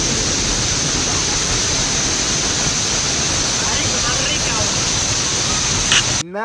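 A powerful waterfall on the Mommer Pool river roars as a loud, steady broadband wash of falling water, close and continuous, with a brief voice near the very end.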